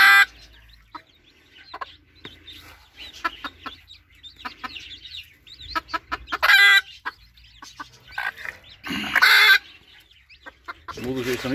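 A hen clucks in a coop with five chicks, giving short scattered clucks and chirps with a few louder bursts and some handling noise.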